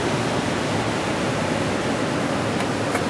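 Powerful rushing water of the Capilano River, a steady loud broadband roar that fills the whole moment without pause, close and continuous.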